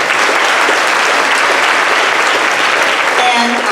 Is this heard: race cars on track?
no